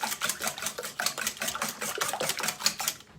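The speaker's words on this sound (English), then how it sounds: "6 eggs, which is the start of the recipe, and I'm going to whisk them" A small whisk beats six raw eggs in a bowl, quick rhythmic metallic clicks and taps repeating steadily at close range, fairly quiet, with no one speaking.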